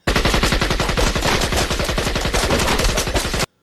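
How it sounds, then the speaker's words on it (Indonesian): Rapid machine-gun fire in a film scene, a continuous loud burst of evenly spaced shots lasting over three seconds before cutting off abruptly. "seorang teroris yang melihat peneliti sedang sekarat segera menghabisinya dengan senjata."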